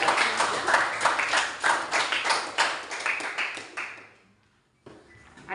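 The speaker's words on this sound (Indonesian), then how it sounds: "Kita tepuk tangan sekali lagi." A classroom applauding, a burst of many hands clapping in uneven rhythm that swells, then fades out after about four seconds, followed by brief quiet and faint room noise.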